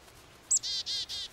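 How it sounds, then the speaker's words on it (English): Cartoon bird chirping in Caillou, a short series of bright, high tweets in quick rhythm, clear and alone over a faint background. "The bird! Grandma, it's on my hand!"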